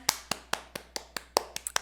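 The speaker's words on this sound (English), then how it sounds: "Claps." About ten sharp hand claps in an uneven, quick rhythm, close and fairly loud with short decays, no talking in between.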